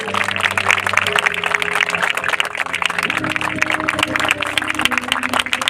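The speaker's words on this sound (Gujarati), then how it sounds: "જોરદાર તાળીઓના ગડગડાટથી તેમનું અભિવાદન કરીશું" Steady crowd applause welcoming a minister at a Republic Day flag-hoisting ceremony in Jamnagar, continuous clapping running throughout with music tones underneath.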